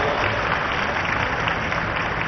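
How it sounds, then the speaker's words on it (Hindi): Loud, sustained applause from a large audience welcoming a chief guest at a state foundation day closing ceremony in Raipur, a dense steady clapping roar filling the hall. "एक बार जोरदार ताली बजा के स्वागत करो"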